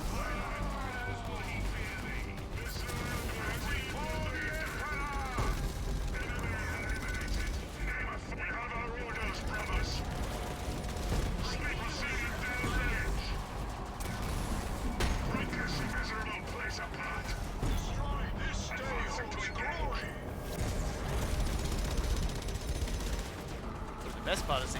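Rapid assault cannon fire from units in the strategy game Dawn of War III, a dense continuous clatter of gunfire and explosions throughout, with a voice talking over the battle noise.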